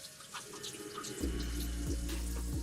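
Tap water runs onto produce being rinsed in a kitchen sink while juicing kale, ginger, apple, carrots and cucumber: a soft trickle first, then a loud, steady gush of running water splashing close by, with no talk.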